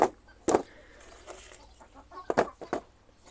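Chickens in a laying coop cluck in short, close bursts, a few sharp calls standing out over quiet background shuffling.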